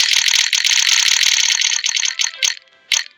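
Opening a Summerset pack in the Roblox game Grow a Garden produces a fast, loud ratcheting tick like a spinning wheel, steady at first, then slowing into a few separate clicks before stopping.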